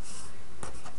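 Pen or marker strokes write numbers for a math problem, close and fairly loud, with a quick scratchy stroke near the end.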